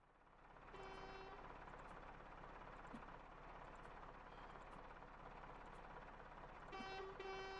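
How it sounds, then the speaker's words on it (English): A vehicle horn honks in traffic at cars ahead that are blocking the way, one short burst near the start and a double toot near the end, loud and close over steady engine and road rumble. "maybe if I honk 2 more times, they'll go faster."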